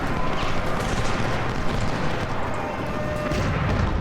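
Artillery from Ultimate General: Civil War thuds and rumbles in a dense, continuous barrage, loud low booms blending into a steady roar of distant cannon fire with no clear gaps.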